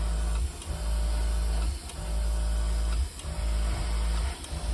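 A small compressor for an airbrush hums steadily nearby, a low motor drone broken by brief regular dips as it cycles, loud and alone without talk.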